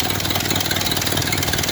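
A 1931 Ford Model A engine idles steadily and low, a continuous close rumble with no talk, freshly running after years of sitting.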